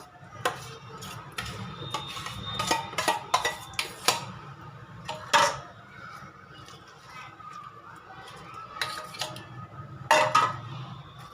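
Soaked semolina being mixed into rice idli batter in a bowl, with a spoon clinking and scraping against the sides in irregular taps and knocks, close and moderately loud, without talk.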